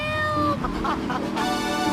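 A cat meows in a radio ad in Grand Theft Auto 3, with a couple of drawn-out meows over a steady backing of music and tones.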